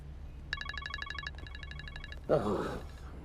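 Electronic telephone ringing, two short trilling bursts of ringtone pulses close by, followed by a brief voice.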